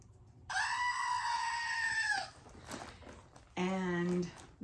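A pet goat screams loudly and close up for nearly two seconds, then after a quiet gap with faint movement gives a second, shorter and lower-pitched bleat.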